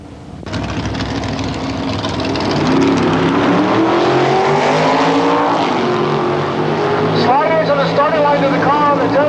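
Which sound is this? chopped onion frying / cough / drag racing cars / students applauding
drag racing cars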